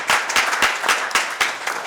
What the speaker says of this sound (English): Will you help me by applauding him for honoring our servicemen?